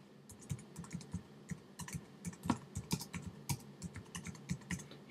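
Steady typing on a computer keyboard, a run of close, crisp key clicks in an uneven rhythm with a few louder strokes, heard alone with no talking.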